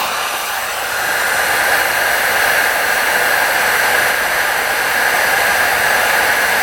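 Heat gun or hair dryer warming the carburetor parts of a 1975 two-stroke triple motorcycle, a loud, steady blowing roar with a constant whine, continuous and alone with no talking.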